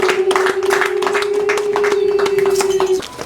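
Wedding guests clap in scattered, uneven bursts under a loud steady sustained tone and a busy hall, with the clapping mixed into ongoing noise rather than standing alone.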